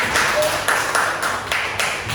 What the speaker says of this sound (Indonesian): Bagus, tepuk tangan untuk Azan.